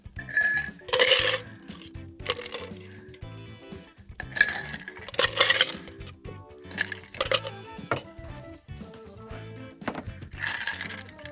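Ice cubes clinking against a cocktail glass of Jim Beam Black, a string of bright, close clinks and rattles in irregular bursts with quiet gaps between.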